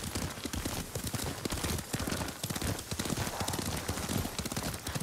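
Horse hooves clip-clopping in the samurai video game Ghost of Tsushima, a quick, steady galloping rhythm of close, distinct thuds that carries on throughout at moderate loudness.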